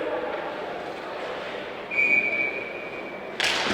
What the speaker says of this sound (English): Now there's a whistle here.